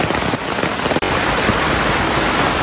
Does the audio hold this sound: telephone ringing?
no